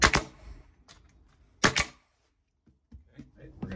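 Nail gun driving nails into house siding during a hole repair: a few sharp, loud bangs near the start and another pair around the middle, followed by quieter handling noises.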